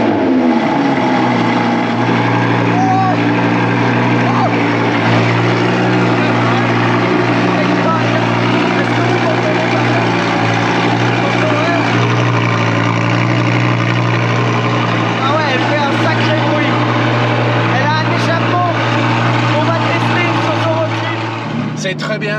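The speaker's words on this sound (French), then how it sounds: "Allez, petit démarrage du matin maintenant, un cold start." An Audi R8 V10 engine starting cold in the morning settles into a loud, steady, deep idle drone that holds for the whole stretch, with faint voices in the background.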